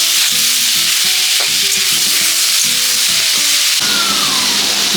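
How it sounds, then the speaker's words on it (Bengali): Green chillies frying in hot oil give a loud, steady sizzle throughout, with a spoon stirring and scraping in the pan in short repeated bursts and no voices. "এর মধ্যে কাঁচা লঙ্কাগুলো ভেজে দিব।"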